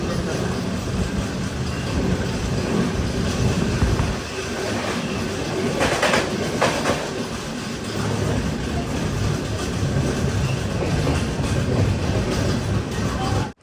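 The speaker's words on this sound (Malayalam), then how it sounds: "തൃശ്ശൂർ 1-ാം നമ്പർ പ്ലാറ്റ്ഫോമിലേക്കാണ് നമ്മുടെ ട്രെയിൻ വരുന്നത്." The Jamnagar–Tirunelveli Express rolls into Thrissur station, its coaches producing a continuous loud rumble with clattering wheels and faint squeals, heard close from inside or beside the train.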